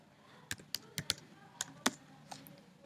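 A command is typed for Rhino 3D software on a computer keyboard: about seven crisp, close keystrokes in an irregular rhythm, fairly quiet, with no talking.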